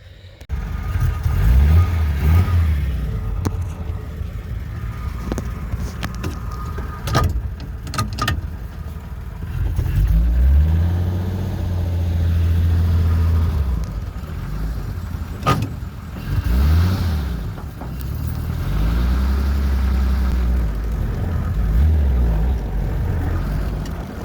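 A 1934 Plymouth car engine revs in repeated surges as it climbs onto a steeply inclined trailer, with bursts of acceleration separated by idling lulls and a few sharp clunks, close and fairly loud.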